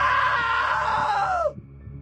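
A single long, loud scream from a character in the video game What Remains of Edith Finch, high and strained, sliding downward before breaking off abruptly, with faint low rumble beneath.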